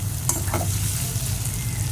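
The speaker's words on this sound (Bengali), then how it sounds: "গাজরটা ভাজা হয়ে গেছে।" Potatoes and carrots fry in a pan with a close, steady sizzle, with a few scraping stirs near the start.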